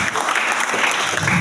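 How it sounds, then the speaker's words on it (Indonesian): Congregation applauding during a church revival service, a steady wash of clapping filling the brief moment with no voices standing out. "Tepuk tangan yang paling."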